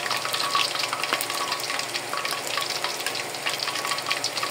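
Eggplant frying in hot oil, a continuous crackling sizzle with dense small pops and occasional stirring, close and steady throughout without talk.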